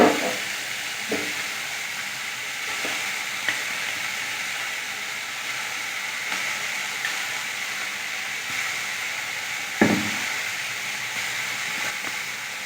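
A paste of ground chana dal with salt sizzles and hisses steadily in a hot pan, with occasional louder scrapes and taps as it is stirred, close and even throughout.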